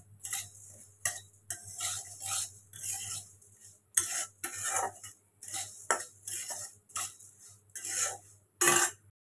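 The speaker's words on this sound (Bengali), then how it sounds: "ওই মুড়িটা একটু সরষের তেল দিয়ে ভাজছি।" Softened puffed rice is tossed in mustard oil in a pan, with a metal spoon scraping and clinking against it in short bursts separated by pauses, close and fairly quiet, along with a steady low hum.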